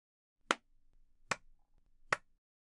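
Three sharp, isolated hand claps spaced almost a second apart, close and crisp against a quiet background.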